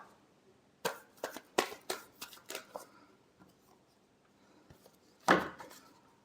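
Tarot cards are shuffled by hand in a quiet room, giving a burst of quick soft riffling snaps, then a pause and one final louder slap, all fairly faint with no talking.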